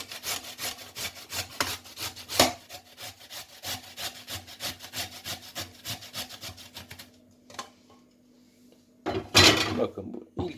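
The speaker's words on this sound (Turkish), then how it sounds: "2 adet havucumu soydum, güzelce de yıkadım. Şimdi rendeliyorum." Peeled carrots rubbed briskly against a kitchen grater for soup, a steady rhythmic rasping that stops for a quiet pause before one more short burst of scraping.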